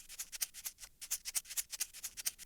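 A chopped, swung shaker loop plays in a tight, bright rhythm of crisp hissy shakes with an uneven groove. It is quiet and sounds alone, with no talk.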